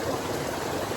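Cold, clean river water flows steadily nearby in a broad, even rush with no pauses or voices, heard on a summer trek near the Netravati river.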